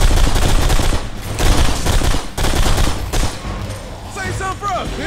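Shotgun fire in the video game Blacksite: Area 51, loud blasts of gunfire and combat noise filling the whole stretch, with voices talking over it and a burst of chirping effects near the end.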